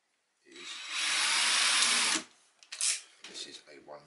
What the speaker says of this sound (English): this is a 1mm drill I've got in here, I'm going to drill two holes down either side where I've made that mark